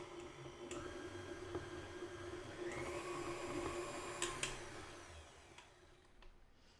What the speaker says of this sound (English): we're gonna start to mix this up on low to medium speed